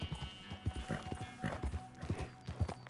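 Horse hooves clip-clop at a walking pace in Red Dead gameplay, a steady run of close, even hoof strikes with no talk over them.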